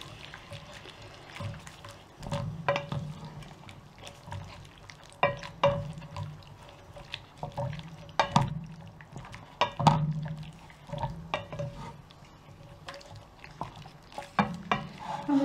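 Spaghetti carbonara sauce stirred in a pan, a steady run of scraping and clinking strokes with a soft low hiss beneath, close and moderately loud.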